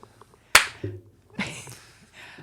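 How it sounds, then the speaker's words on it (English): A single sharp, loud hand clap rings out, followed by softer knocks and a brief faint voice, in an indoor chat setting. "That was a clap of anger,"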